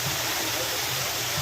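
Alita Falls in Maoban, Quezon pours steadily as a loud, close, continuous broadband rush of falling water with no break.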